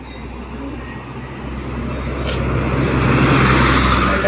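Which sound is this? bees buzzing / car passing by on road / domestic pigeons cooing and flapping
car passing by on road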